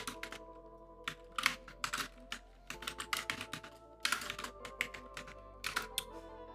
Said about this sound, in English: I hope my keyboard is not too loud.